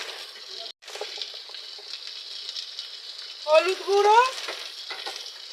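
Potatoes and spices frying in a pan with onions, a steady close sizzle and crackle with stirring scrapes that grow louder briefly, under a voice speaking.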